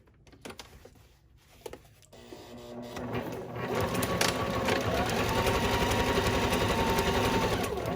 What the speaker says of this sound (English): we are going to sew on the machine with about 1/4 inch seam allowance, back stitching on the ends